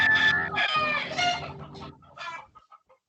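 A chicken clucks loudly and close by in a few rapid, harsh bursts, then tapers off into softer, scattered clucks.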